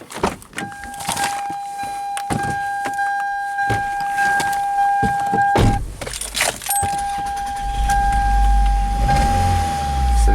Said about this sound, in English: So got the misfire.